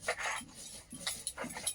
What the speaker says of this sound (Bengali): গোটা গরম মশলাটা বেটে নিচ্ছি।